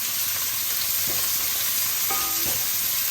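Big onions stirred and fried in a little oil in a pan, giving a steady close sizzle with a few soft scraping stirs.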